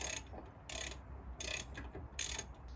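A ratchet winds out bolts on a Ford Fiesta ST150 wheel hub, giving four quiet evenly spaced bursts of rapid clicking close by, with no voices.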